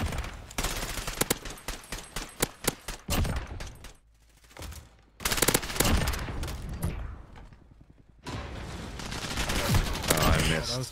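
Rapid bursts of video game gunfire, dense automatic volleys in loud clusters separated by brief pauses, close and punchy with occasional talk between.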